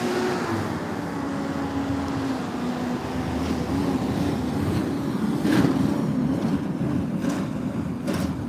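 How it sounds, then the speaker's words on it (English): A heavy cargo train rumbles past in Broadview, Chicago at a steady roar, with low droning and occasional metallic clanks and squeals, no voices. "there was a big bang, but it was just the cargo train."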